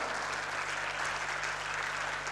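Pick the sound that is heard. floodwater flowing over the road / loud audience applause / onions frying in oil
loud audience applause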